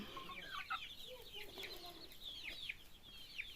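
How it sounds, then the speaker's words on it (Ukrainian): Several chickens cluck and chatter softly at a distance, overlapping in a busy flock with faint background noise. "І сьогодні докупили мамі курей"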